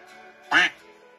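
A single short duck quack, clear and fairly close, stands out against a quiet background with a faint steady tonal hum.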